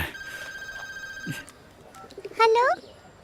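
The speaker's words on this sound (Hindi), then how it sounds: "देखो किसका फोन है।" A telephone rings in a home during a scene from a dubbed Hindi action film, with a steady electronic ring tone for about a second and a half, followed by quieter background sounds and a brief high chirping warble.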